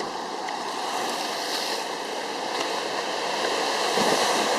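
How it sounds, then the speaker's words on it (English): Sea waves breaking on the shore at Barmouth, Wales, a steady rushing surf wash with wind, building slightly louder toward the end. "Oh, here comes some wave."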